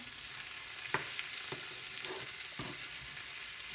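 Young pumpkin stir-fried Western style in a pan, a steady soft sizzle with a few scattered scrapes and taps of the utensil, fairly quiet and with no voices.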